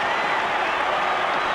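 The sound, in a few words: rugby crowd cheering Manly try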